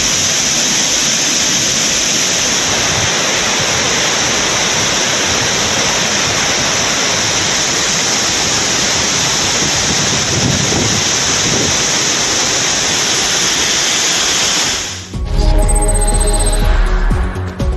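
Flooded Courtallam waterfalls in full spate, a loud continuous broadband rush of heavy falling water that holds steady for most of the time before cutting abruptly to a different, lower rumble near the end.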